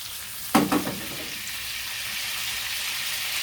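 Koshari in a pot sizzles steadily as it is stirred, with a short scraping burst of the spoon near the start over the continuous frying hiss; no talking.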